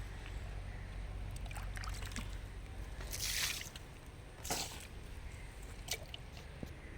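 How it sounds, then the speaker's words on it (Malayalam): Diluted rice water poured onto plants in a home vegetable garden: a few short, splashy pours land close by in separate bursts over a steady low background hum, with no talking. "പിന്നെ ഞാൻ ഈ കഞ്ഞിവെള്ളമൊക്കെ ചെടികൾക്ക് ഒഴിക്കട്ടെ കേട്ടോ"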